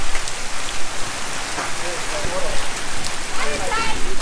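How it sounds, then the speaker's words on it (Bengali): Heavy rain pours onto a lake during a hailstorm, a dense, loud and continuous hiss of drops striking water and surfaces all around, with scattered sharper impacts. "বৃষ্টি শুরু হয়ে গেছে, আমাদের বৃষ্টিতে অবস্থান, ভিজতেছি তারপর ভালো লাগতেছে।"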